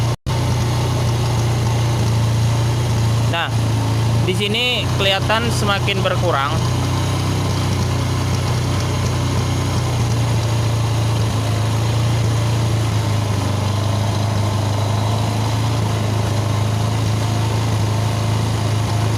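A motorcycle with a burnt, faulty ignition coil runs at a steady low idle after starting, its even hum continuing under someone talking throughout.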